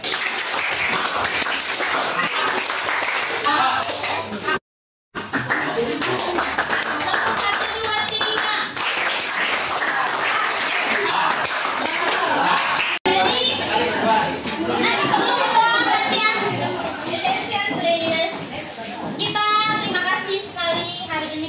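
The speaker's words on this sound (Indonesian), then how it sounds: "Tepuk ya. Ya. Prakteknya ya." Children in a classroom clap hands in rhythmic patterns, bursts of sharp, close claps broken by a brief silence, with kids chattering and talking around and between the clapping.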